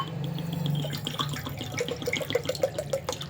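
Water poured into a pan to make sugar syrup for gulab jamun, a short, close trickling splash with quick repeated droplet plinks and gurgles.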